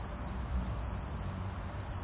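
A pressure cooker emits three evenly spaced electronic beeps as it starts, clear but moderate, over a low background hum.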